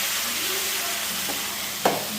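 Okra and potato pieces sizzle in a hot oil tempering in a pan, a steady close frying hiss with a single clatter of a spoon near the end.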